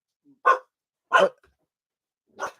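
Three sharp dog barks, evenly spaced and fairly close, with silence between them.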